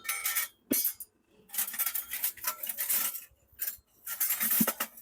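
Assorted metal spoons clinking and rattling as they are handled, in dense bright bursts with short pauses between them and no talking.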